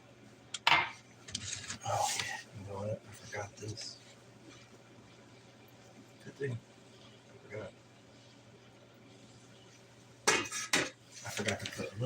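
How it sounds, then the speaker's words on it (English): A spoon scrapes and clanks against a metal pot while jambalaya is stirred, in scattered bursts of clatter and rubbing, loudest at the start and end, with quiet stretches between and faint talk in the background. "Just stirring."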